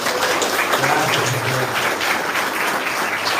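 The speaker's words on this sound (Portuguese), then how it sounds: "Dá uma salva de palmas para Jesus." Church congregation applauding together during a worship service, a steady dense wash of clapping held for the whole stretch without pause.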